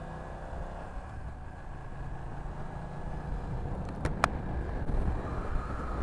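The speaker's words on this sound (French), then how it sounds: "C'est une espèce de résonance métallique du moteur." A BMW F900XR motorcycle's engine runs at a steady drone during a ride, mixed with rushing wind noise, with a couple of sharp brief clicks near the end.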